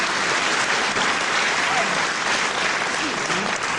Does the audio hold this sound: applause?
yes